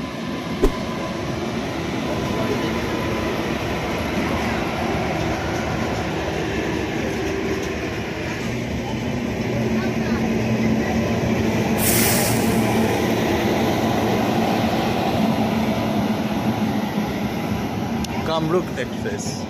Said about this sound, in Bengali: কামরূপ এক্সপ্রেস পাস হচ্ছে।